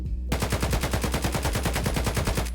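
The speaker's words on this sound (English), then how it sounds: "So now this is my favorite gun, the AK-103. Oh, let's put it on full auto there, bud." Close, loud full-auto burst from an AK-103 rifle in the Escape from Tarkov video game, starting after a brief quiet moment and running as a fast, steady, even string of shots to the end.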